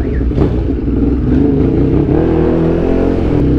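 Hyper motorcycle engine idling loud and close, a steady throaty rumble with slight rises in revs, running continuously.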